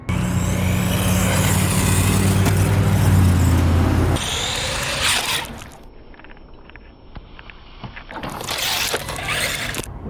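A Udirc 1611 beginner RC truck runs outdoors in a backyard, its electric motor whining loudly at first, then easing off and fading to a quieter distance before surging back near the end.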